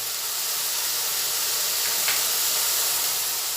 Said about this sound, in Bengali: পেঁয়াজ ভাজা হচ্ছে সেই সময়ের মধ্যে আমি এক চামচ আদা বাটা দিয়ে দিলাম